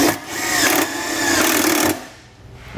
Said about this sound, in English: we'll use the included self-tapping screw to run it right into the bottom of the frame here